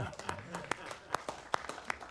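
Scattered light clapping at a city council meeting in Antioch, California, a handful of sharp claps spaced irregularly, faint and somewhat distant with soft murmuring in the background.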